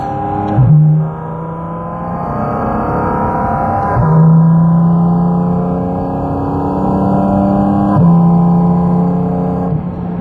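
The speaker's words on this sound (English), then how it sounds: "So now I'm gonna downshift, and I'm gonna downshift one more time." A Porsche GT4 RS engine hums at moderate revs from inside the car, with sharp rev flares at each downshift, three of them spaced several seconds apart, and no voices.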